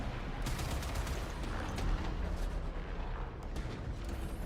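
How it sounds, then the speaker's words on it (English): Artillery firing in the video game Warframe, a dense, continuous rumble of booming blasts and rolling detonations, loud and sustained without pause. "Fire the artillery!"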